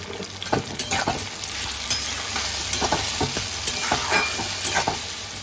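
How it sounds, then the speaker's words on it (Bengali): Chopped tomato and onion frying in a pan, a continuous sizzle broken by frequent scraping clicks of a spoon stirring, close and steady throughout. "কুচনো টমেটোটা দিয়ে দিলাম"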